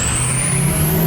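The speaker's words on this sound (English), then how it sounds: "I want y'all to hear how loud this truck is." Loud, steady drone of a lifted Ford F-250 with a 6.0 diesel engine cruising on a highway, a high turbo whistle sustained over the deep engine rumble throughout, with no talking.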